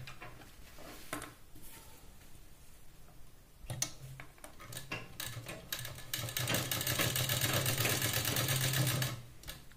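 An electric sewing machine stitches a blouse shoulder seam. Short bursts of motor whir and rapid needle ticking come first, then a longer steady run of stitching that stops just before the end. It is close and moderately loud.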